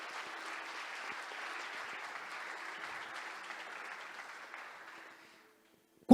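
A church congregation applauds in a steady, moderately distant patter that fades out near the end, leaving a short pause before a sudden loud sound at the very close.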